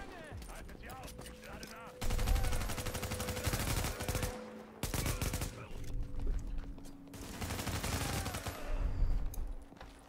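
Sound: gunfire in the video game The Division

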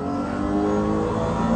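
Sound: 1998 Porsche 911 GT1 slot car accelerating

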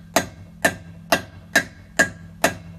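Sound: hammering a socket onto a wheel lock nut

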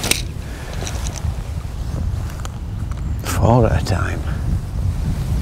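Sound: wind blowing at a fishing lake

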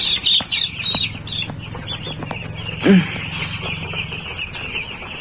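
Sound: broiler chickens clucking while one is caught

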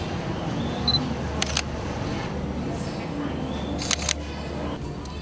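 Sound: camera shutter of Sony Alpha A7 and A7R

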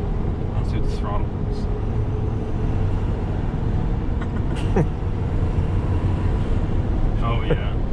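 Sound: 6.7 Powerstroke diesel truck accelerating at full throttle

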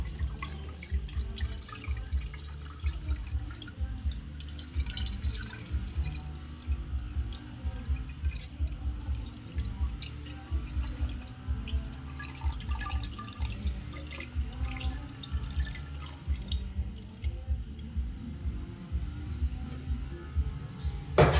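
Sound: pouring salt brine over eggs to make salted eggs

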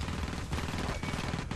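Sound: gunfire from the Marine's gun in the video game Alien vs Predator

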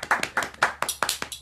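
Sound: audience applause for the band

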